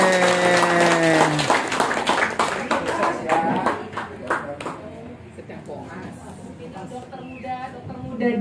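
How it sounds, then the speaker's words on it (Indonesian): An audience claps for two young doctors, recent medical graduates, at a community health talk on dementia in older people. The clapping is scattered and moderately loud, follows a brief musical tone and thins out over several seconds while voices talk in the room. "Aplaus dong."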